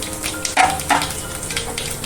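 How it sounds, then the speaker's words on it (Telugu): Cumin seeds and chana dal tempering in hot oil give a brief close sizzle and crackle, with a couple of quick spatula scrapes and no talk. "జీలకర్ర వేసుకున్నాం కొద్దిగా శనగపప్పు వేసుకున్నాం పోపులో బాగుంటుంది"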